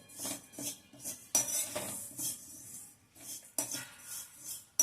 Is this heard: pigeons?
no